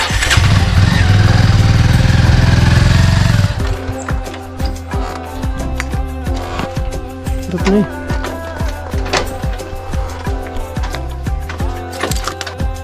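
A motorcycle engine runs loud and rough, then settles into a lower, uneven idle with rapid chugging pulses.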